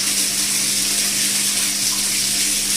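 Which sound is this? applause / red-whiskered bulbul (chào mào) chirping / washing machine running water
washing machine running water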